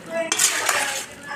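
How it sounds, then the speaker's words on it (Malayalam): A spoon scrapes and clinks around a pot of simmering chicken curry, a short burst of close metallic stirring with a faint bubbling hiss beneath. "ഇളക്കി കൊടുക്കുക."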